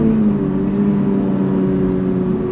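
2024 Subaru BRZ tS accelerating under throttle, a steady loud engine drone heard from inside the car with a constant pitch and light road rumble, with no talk over it.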